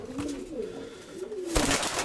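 A pigeon coos nearby in soft, rolling, repeated calls, close and clear, with a brief rustle near the end and no talk.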